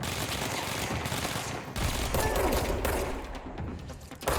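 Sustained gunfire from the video game Control, dense rapid bursts close and loud throughout with a brief dip near the middle, no talking.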